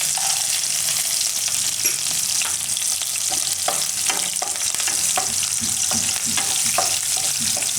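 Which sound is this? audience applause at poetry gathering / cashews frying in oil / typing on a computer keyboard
cashews frying in oil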